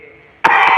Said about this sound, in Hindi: खांसी आती है तो आती ही रहती है।